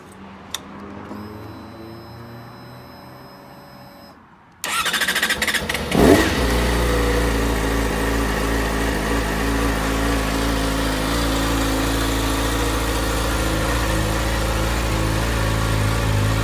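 After a few seconds of near quiet with faint beeps, a 2018 Yamaha YZF-R6 sport motorcycle with standard exhaust fires up with a loud burst, then settles into a steady, even idle.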